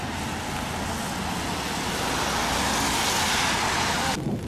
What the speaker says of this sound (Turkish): Arızalanan araçların çekilmesiyle yoldaki trafik akışı yeniden normale döndü.